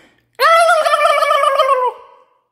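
A person vocally imitates a turkey gobble, a single loud, close, warbling call about one and a half seconds long that trails off at the end.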